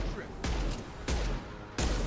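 Three separate booming blasts from enemy rocket launchers in Mass Effect 2 go off in the distance over a low rumbling background. The bursts are spaced roughly evenly and each one is broad and loud.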